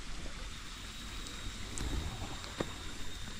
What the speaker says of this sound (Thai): ตรงขากลับนะครับตรงนี้ก็จะเป็นลำธารกึ่งกึ่งน้ำตกนะครับ